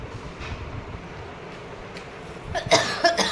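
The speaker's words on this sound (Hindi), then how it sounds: "खांसी बहुत आ रही" A woman at home coughs in a couple of short, harsh bursts near the end, following a stretch of quiet low room rumble.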